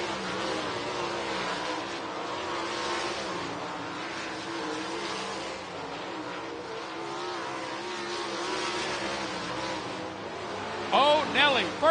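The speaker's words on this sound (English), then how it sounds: "Let's see if Mark Smith can break that 14-second barrier here in hot lap" A race car runs a hot lap at Southern Raceway in Milton, Florida, its engine a steady distant drone under an excited commentator's continuous talk, rising slightly as the lap closes.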